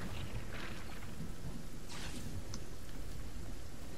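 A storm in the video game Fortnite brings a constant rushing hiss of rain with low rumbling thunder underneath, a dense, unbroken wash of sound.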